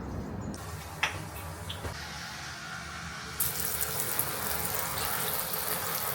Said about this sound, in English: The tap in the bathroom, it works, but I don't understand the spray thing, and it's just destroying the mirror.